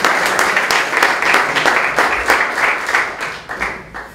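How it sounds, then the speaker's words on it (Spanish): A class in a continuing-education music course applauds a fellow student, many hands clapping in a loud, fairly rhythmic burst that swells and fades slightly toward the end. "Gracias, un aplauso para el compañero."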